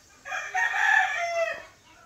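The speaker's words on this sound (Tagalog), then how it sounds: "May manok doon." A chicken crows once in a home garden, a single hoarse call of about a second and a half, moderately close and heard alone.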